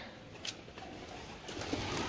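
Soft pigeon cooing in the background, low and murmuring, with a few faint rustles over a steady ambient hiss.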